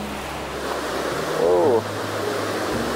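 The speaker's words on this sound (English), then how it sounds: "it's a little bit of white water there for us." Rushing white water in Scandale Beck, a hill stream swollen by a morning of rain near Ambleside, makes a steady broadband roar throughout, with a brief voice over it.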